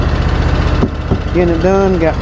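Lawn mower engine runs steadily through the whole stretch, a constant low drone while mowing along a road edge, with someone talking over it.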